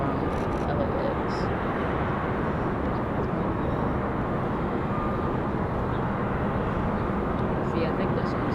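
A Delta jet from LAX arrives at Raleigh-Durham, heard as a steady, fairly distant broadband rumble of jet engines that stays constant throughout, with a voice talking over it.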